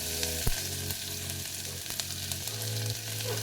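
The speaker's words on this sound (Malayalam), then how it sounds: "നമ്മൾ ചോപ്പ് ചെയ്ത് ഉള്ളി നന്നായിട്ടൊന്ന് സോട്ട് ചെയ്തെടുക്കുക." Finely chopped onions sautéing in hot oil with a little ghee, a constant close sizzle with a few spoon knocks against the pan and a low background hum, no one speaking.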